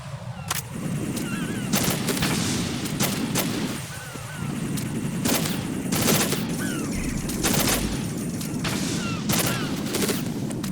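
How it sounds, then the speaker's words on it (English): Repeated gunfire bursts with bullet impacts in Metal Gear Solid 2, sharp cracks spaced across the stretch over a steady background din, loud and close. "I like how there's like a delay between the bullets hitting."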